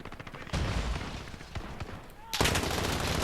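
Gunfire in the video game Call of Duty: Modern Warfare (2019), bursts of rapid shots opening around half a second in and again near the end, fairly close, with talk mixed underneath.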